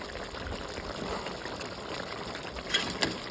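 Half a cup of water poured into pork igado cooking in a pot, a short gushing splash over low kitchen background, close and moderately quiet.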